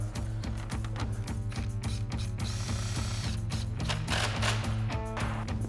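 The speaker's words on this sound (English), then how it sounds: "So we've got our 10mm socket and our longer screws." A 10mm socket on a ratchet drives longer screws into a 2019-2024 RAM 2500 grill, producing rapid, steady mechanical clicking of the pawl with brief pauses, close and clear, no talking.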